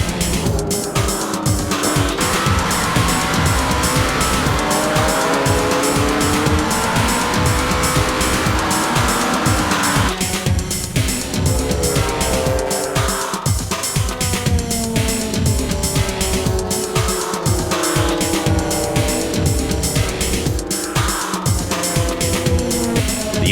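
Toyota Supra race cars in the 2004 JGTC series roar past at full throttle, with loud engines rising and falling through gear changes and tire squeal over a continuous race din.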